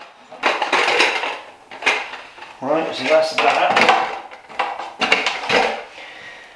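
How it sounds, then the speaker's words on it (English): Camping cooking tins, a small kettle and pans clank and rattle close by in bursts while being packed for a motorcycle camping trip in the Lake District, with someone speaking briefly over the metallic knocks. "I've got my cooking tins."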